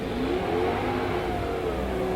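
Munsters coach hot rod with organ-pipe style exhausts revving at a drag strip, a loud, continuous engine roar with a slowly rising pitch and no voices.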